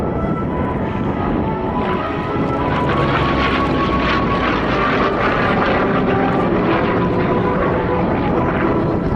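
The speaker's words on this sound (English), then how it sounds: "Giant barrel roll, and again at the top where the energy is gone and the airplane gets mushy" An FG-1D Corsair piston-engine warplane flying a barrel roll at the 2012 Waterloo airshow, its propeller engine roaring loudly and steadily throughout with shifting pitch as it maneuvers overhead.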